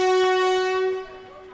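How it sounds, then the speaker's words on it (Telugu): Train horn from an express on its inaugural run from Narsapur to Tiruvannamalai as it starts moving, a single loud, steady tonal blast close by that holds and then fades out. "ట్రైన్ అప్పుడే మూవ్ అవుతుంది, హాంకింగ్ ఇస్తుంది"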